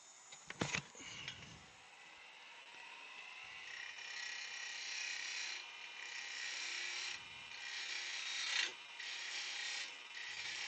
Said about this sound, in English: we'll sand that wee bit